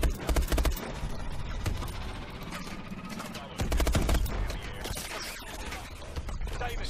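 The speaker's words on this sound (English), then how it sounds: "Oh, this is burst fire" Burst-fire gunshots from the video game Call of Duty: Advanced Warfare, loud rapid volleys in repeated clusters with a heavy low thump at each burst.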